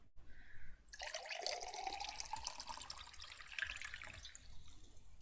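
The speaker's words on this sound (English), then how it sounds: "I shall pour myself a glass of water there." Water poured into a glass from a tap, a steady close splashing stream after a brief pause, with no talk over it.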